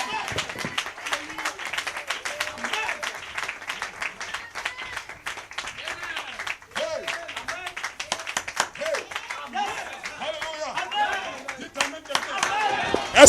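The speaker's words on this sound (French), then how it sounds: "Donnez-lui une main d'acclamation" A church congregation at a worship service applauds with dense, continuous clapping that carries on for over ten seconds, mixed with voices and cheering from the crowd.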